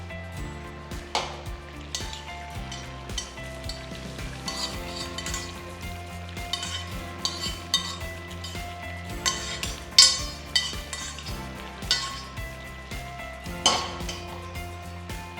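A pan of tapioca and beef biryani mixed with a mustard-seed seasoning is stirred with repeated utensil scrapes and clinks over a soft sizzle, in irregular bursts over a low background.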